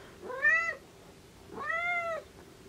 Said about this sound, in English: You are the noisiest cat.